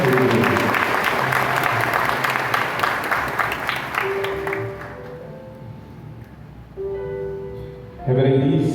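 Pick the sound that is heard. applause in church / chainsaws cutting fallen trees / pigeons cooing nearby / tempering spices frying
applause in church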